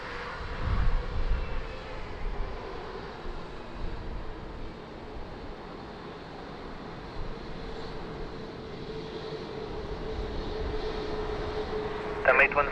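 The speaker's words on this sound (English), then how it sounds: "LATAM 787-9 on final." Broad, steady jet roar of a LATAM Boeing 787-9 on final approach to Lisbon Airport in wind and rain, distant and fairly even, with people talking over the start and a sharp noise near the end.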